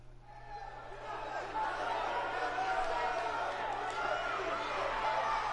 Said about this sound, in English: Tremendous crowd here at the Hammerstein Ballroom